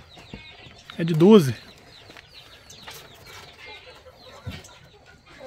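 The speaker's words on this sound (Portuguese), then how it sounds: "Aqui as galinhas comem junto com os gatos" Chickens on a small farm in Minas Gerais, where the hens feed alongside cats, give a brief clucking call up close amid quieter rustling, while a person speaks nearby.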